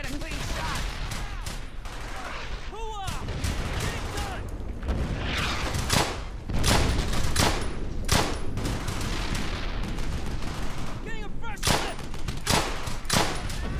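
Gunfire in the World War II shooter game Brothers in Arms: Hell's Highway: dense bursts of rifle and machine-gun fire with sharp single cracks and heavy blasts, near and loud, some shots echoing, with occasional voices mixed in.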